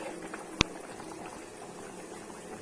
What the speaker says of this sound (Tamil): மூடி போட்டு கொதிக்க வைங்க.